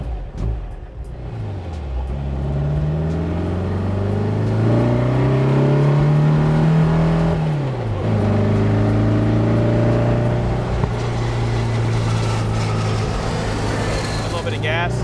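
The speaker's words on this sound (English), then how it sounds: "the sound it makes when you open up those throttle bodies is to die for" A 1956 Porsche 550 Spyder engine on a closed course, revving with rising and falling pitch as the throttle opens, sustained loud engine tone with gear-change dips, and someone speaking over it.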